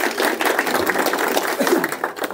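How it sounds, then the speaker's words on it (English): Audience applause at a talk on fracking, a dense patter of many hands clapping steadily at close range for a couple of seconds. "Let's give a round of applause to Dave for putting all this together."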